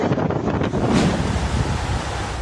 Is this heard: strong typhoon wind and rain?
yes